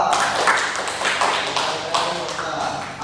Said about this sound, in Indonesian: Aplaus untuk Okta.